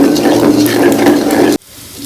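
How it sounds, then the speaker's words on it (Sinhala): Water goes into hot, browning caramel for coconut toffee, making a loud steady hiss and bubbling that cuts off sharply, leaving a quieter simmer. "මේකට මේ පොඩ්ඩක් වතුර එකතු කරගෙන කලවම් කරනවා."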